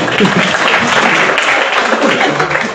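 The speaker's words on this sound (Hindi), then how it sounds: "चलो जोरदार तालियां हो जाए उनके लिए।" An indoor audience at a training programme in Delhi gives steady, dense applause, loud and close, filling the moment without a break.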